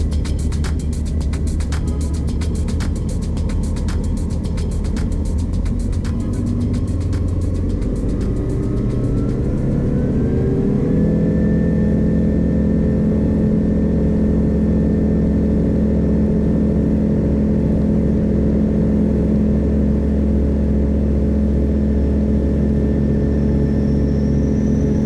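Light sport aircraft engine during a takeoff roll on runway 15, a loud continuous drone that rises in pitch as power comes up around ten seconds in, then holds a steady high-power hum.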